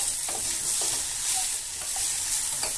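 Food fries in mustard oil in a pan, giving a close, continuous sizzle with soft, regular stirring strokes and no talk.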